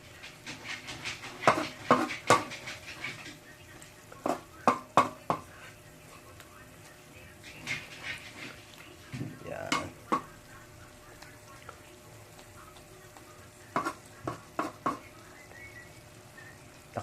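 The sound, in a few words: stirring coconut milk stew (ginataan) in a pot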